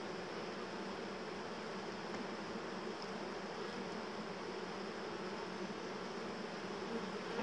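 A dense, steady buzz from a swarm of honeybees around a lifted frame from a hive, close and continuous with no pauses.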